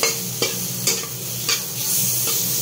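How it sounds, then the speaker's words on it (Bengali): Eggplant fries in hot oil with chili powder and spices for a hilsa curry. A loud, continuous sizzle is punctuated by about five rhythmic spatula scrapes against the pan. "বেগুনটা ভালো মতনই ভাজা ভাজা হয়ে গেছে, মশলাটাও তার সাথে ভাজা হয়ে গেছে"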